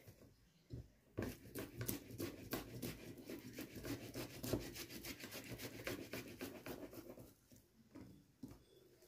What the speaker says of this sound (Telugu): ఒక పెద్ద దుంప అండి, ఇది ఉడకపెట్టేసుకున్నాను. ఇది మ్యాష్ చేసుకొని పెట్టుకోవాలి.